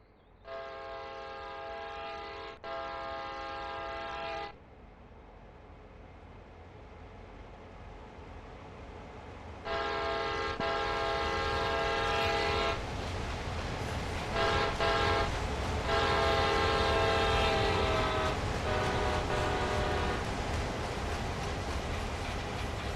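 Locomotive in Train Sim World rolling past, a loud sustained multi-tone horn blaring in several long blasts over the steady low rumble of the train, with no voices.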